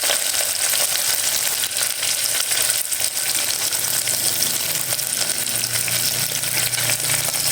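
Onions frying in a pan with curry leaves and coriander for spinach rice, a loud, continuous close-up sizzle with a faint low hum underneath.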